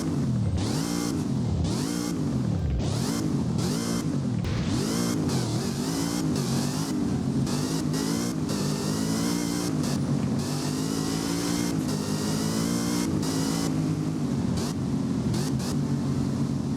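A Zenvo TSRS supercar in the racing game Driving Empire revs hard through repeated sweeping climbs and drops in pitch, then holds a loud, sustained high-revving roar, close and alone with no voices.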